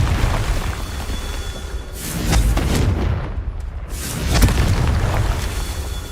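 Repeated heavy booming blasts from the Confringo fire spell in the Hogwarts Legacy video game, loud and close, swelling in several rolling waves with crackling bursts between them.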